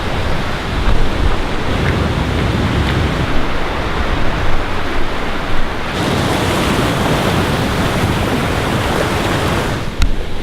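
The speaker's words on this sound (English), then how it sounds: "Made it to the second waterfall." Central Oregon waterfall roaring steadily, a dense continuous rush of falling water heard close with no breaks.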